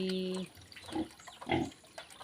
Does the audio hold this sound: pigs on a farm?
yes